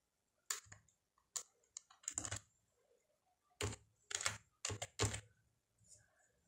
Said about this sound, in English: I select here and type the label name.